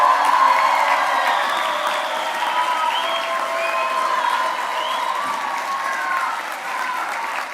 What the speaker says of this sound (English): one more big round of applause for the class of